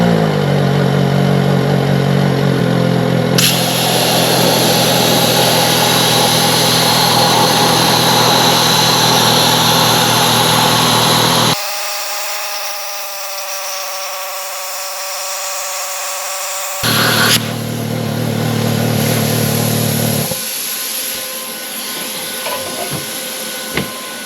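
An AC compressor cutting machine starts up and runs with a loud, steady mechanical drone, cutting out for several seconds midway before the motor roars back and continues.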